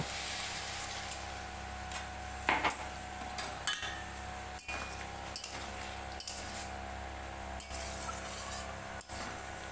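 Lid set over a pan of pumpkin leaves cooking with a little added water, several quiet metallic clinks and clatters spread over a faint, steady kitchen background.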